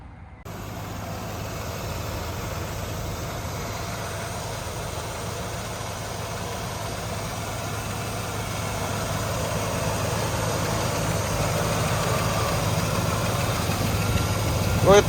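A muscle car engine idles with a steady, low, throbbing rumble that runs unbroken throughout and grows slightly louder toward the end.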